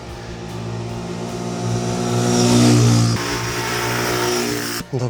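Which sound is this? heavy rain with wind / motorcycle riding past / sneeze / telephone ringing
motorcycle riding past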